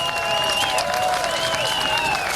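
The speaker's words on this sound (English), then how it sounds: "Let's give it a well-deserved round of applause." An outdoor crowd at a Civil War reenactment claps steadily and densely. Tonal whistles or cries drift through the applause, which stays at a constant strong level throughout.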